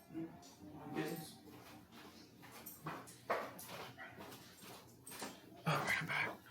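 Dog whimpering and yipping indoors after coming in from the rain, several soft whines and small yelps scattered over a few seconds, faint and close, with light rustling and movement around it.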